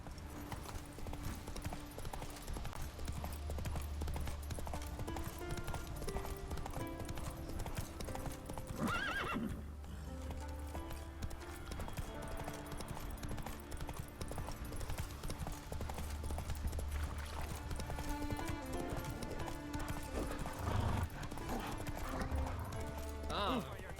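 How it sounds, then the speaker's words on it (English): A horse gallops in the video game The Witcher 3, with rapid, steady hoofbeats and a whinny over continuous game sound, while a person talks. "Come on, Roach"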